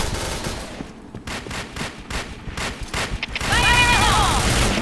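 Rapid bursts of automatic gunfire in the video game Point Blank crackle in quick succession, with a denser, louder stretch of shooting and mechanical noise toward the end.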